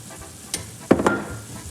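Meat fries in a pan for Sicilian arancini, giving a soft sizzle broken by two quick clattering bursts as it is stirred, close by.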